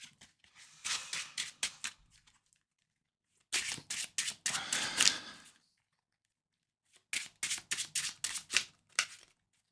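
A Marvel Champions encounter card deck is shuffled by hand in three separate bursts of quick, crisp riffling, close and clear with short pauses between them.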